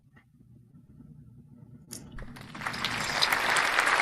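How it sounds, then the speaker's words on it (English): Hand clapping from a live online show starts faint and builds into a dense, growing burst of applause-like claps, rising in loudness toward the end after a quiet, murmuring start. "There go my hand clap."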